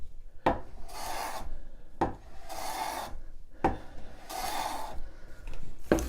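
Three long rasping strokes cut a chamfer along an edge of pallet wood, each stroke a dry scraping pass that starts with a sharp knock, with short pauses between strokes, close and fairly loud.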